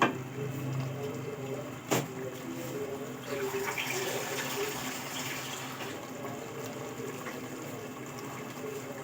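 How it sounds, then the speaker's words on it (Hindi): Water pours steadily into a cooking pot of chicken and chickpeas for biryani, a continuous splashing trickle with a brief clink near the start, fairly close. "1 कप भर के मैं डालूँगी इसमें पानी"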